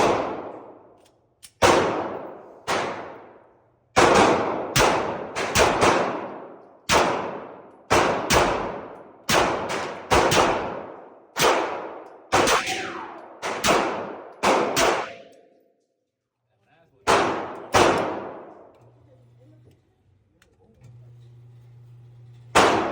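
Sharp gunshots from Glock 43X and Glock 22 pistols at a firing range, about fifteen loud, distinct reports fired singly and in quick pairs with short ringing decays, followed by a low steady hum near the end.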